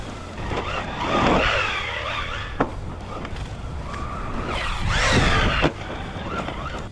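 Motor whine from an RC truck launching off a jump and driving, rising and falling in two loud surges with sharp thumps of landing, near and without voices.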